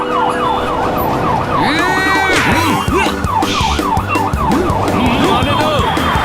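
A loud wailing ambulance siren cycles up and down close by in a cartoon, with a second siren and traffic noise layered over it.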